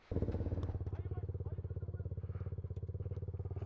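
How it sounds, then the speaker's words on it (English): Motorcycles ride through the street with a close, loud engine rumbling in a rapid, pulsing rhythm that starts abruptly and keeps throbbing steadily to the end. "So a lot of bikes in the street right now."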